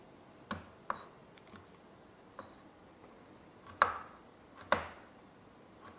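A carrot being finely chopped on a board: sparse, separate knife chops, a handful of crisp knocks spaced irregularly with louder strikes near the end, close and alone without talk.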